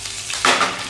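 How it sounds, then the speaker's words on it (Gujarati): Green chillies and curry leaves dropped into hot oil while cooking patra give a brief, close sizzling burst that swells in the second half of a short moment. "હવે એની અંદર લીલો મરચો અને લીમડો એડ કરી લઈશું."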